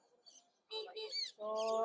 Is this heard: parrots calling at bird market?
yes